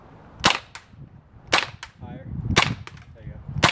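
UMP-45 airsoft gun firing its last magazine, with four loud, sharp single shots spaced roughly a second apart and short fainter snaps between them.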